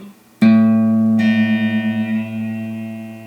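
A Fender Stratocaster electric guitar string is plucked twice through an amplifier while being tuned down. Each note rings out loud and sustained, with a slight wavering shimmer as it decays.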